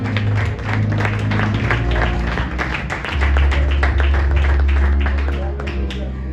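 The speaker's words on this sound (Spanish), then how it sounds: "Denle un aplauso al Señor." A church congregation claps in praise, dense rhythmic applause carrying steadily over a low bass-heavy music bed, loud and close throughout.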